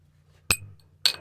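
Glasses clink together in a toast, two short bright chinks about half a second apart, close and clear over a low background hum.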